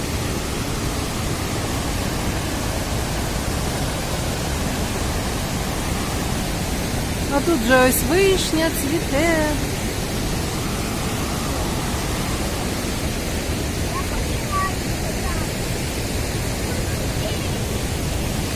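Steady roar of rushing water from the Probiy waterfall near Yaremche in the Carpathians, a constant broad hiss filling the background while a person speaks briefly over it.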